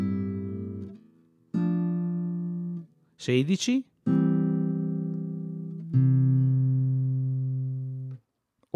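Classical guitar plays measures 15 and 16 of a Julio Sagreras beginner lesson: a few slow, ringing notes and chords, each left to sustain, with one brief spoken word in between, close and clear.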